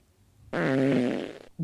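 A single loud, drawn-out fart blares for about a second after a quiet start, buzzy and tonal, with another burst starting just at the end.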